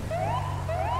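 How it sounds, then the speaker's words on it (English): Police siren from an unmarked police truck in Grand Theft Auto V with a police mod, a steady wailing tone rising and falling twice over constant engine and traffic rumble, loud and close. "I'm going to use lights and a little bit of sirens"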